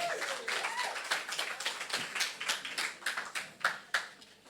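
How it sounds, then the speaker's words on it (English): A spoken word audience claps for itself in scattered, uneven claps that thin out over a few seconds, with individual hand strikes standing out near the end. "give yourselves a round of applause"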